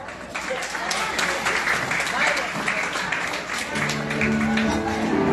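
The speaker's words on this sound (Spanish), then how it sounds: "Fuerte los aplausos." Guests at a quinceañera burst into sustained applause as the father is invited to dance the waltz with the birthday girl. Steady, dense clapping fills the room, with voices in the crowd and a brief musical tone near the end.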